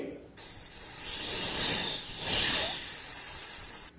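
A person imitates a snake's hiss for a grade 2 lesson, producing one long, loud, steady hiss that lasts about three and a half seconds and then stops abruptly.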